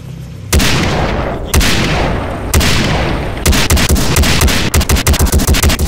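Loud, sharp gunshots in Far Cry 3: a few spaced heavy blasts, then a rapid rattling burst of automatic fire near the end.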